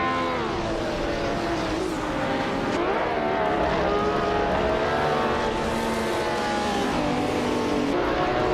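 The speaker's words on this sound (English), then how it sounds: "Leanne Trudeau is driving a 1977 Toyota Celica Turbo" A 1977 Toyota Celica Turbo race car drives hard in a race, its engine note loud and continuous with rising and falling pitch as it accelerates and shifts, other cars sounding alongside.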